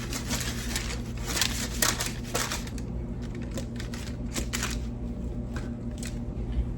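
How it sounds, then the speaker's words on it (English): A knife works through thick pork chops from Sam's Club, halving them with crackly crunching and scraping bursts over a steady low kitchen hum, close and irregular. "So these are really big, thick pork chops from Sam's Club, and I like to just cut them in half."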